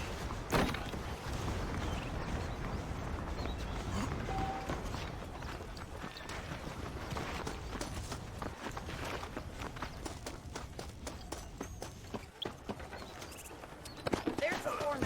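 Horses' hooves clip-clop steadily on a dirt path in Red Dead Redemption, the Game of the Year Edition of the western game, mixed with ambient game sounds and talk.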